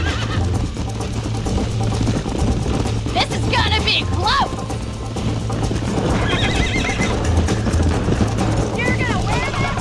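Horse neighing and galloping in the Red Dead Redemption video game, with rapid hoofbeats throughout, several shrill whinnies and a steady engine-like drone underneath, while people talk over it.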